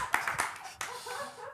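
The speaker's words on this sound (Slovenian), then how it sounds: "Kva ploskate?" Audience applause breaks out, a burst of hand clapping with a few sharp peaks, moderately close and fading toward the end, with faint voices mixed in.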